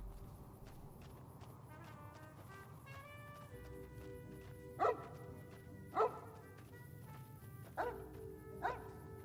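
A dog barks in the Fallout video game, four short sharp barks spaced a second or so apart over faint game ambience and footsteps.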